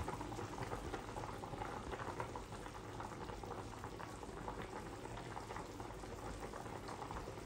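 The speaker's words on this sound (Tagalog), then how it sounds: "Kulo na mga my friend." Chicken tinola broth boiling in a pot, a steady bubbling and gurgling simmer, close but fairly quiet, continuous with no talking.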